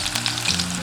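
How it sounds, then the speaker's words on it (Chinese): Scallion, ginger, garlic and tofu frying in oil in a clay pot, a loud, close, continuous crackling sizzle over a low steady hum, with no voices. "下入葱姜蒜炒香，料头炒香过后下入豆腐"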